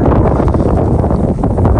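Cold, strong wind buffets the microphone beside a lake-like river at Torres del Paine in Chile, making a steady loud rumbling roar.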